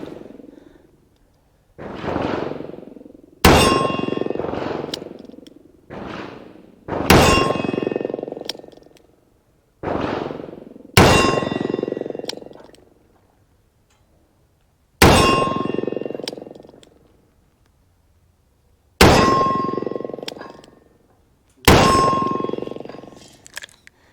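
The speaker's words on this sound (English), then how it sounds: "we are going to start off with the 4-inch here on the steel from the 15-yard line" A Smith & Wesson .44 Special revolver with a 4-inch barrel fired at steel targets from 15 yards: loud, sharp reports spaced a few seconds apart, each followed by a ringing metallic clang from the plate, with no talking.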